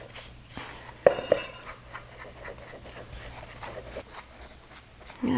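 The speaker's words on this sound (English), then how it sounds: "Simply mix it and blend it until it's all nice," Financier batter made with whole wheat flour is mixed in a bowl, giving close, quiet scraping and rubbing with a few sharp clinks of utensil against the bowl.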